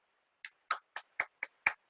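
Students in a classroom clapping for classmates who have just presented, seven separate, distinct claps spaced evenly and close to the listener in otherwise quiet surroundings.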